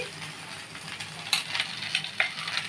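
Gobindobhog rice with paneer being stirred in ghee, a soft steady sizzle with light scraping clinks of a spoon against the pan.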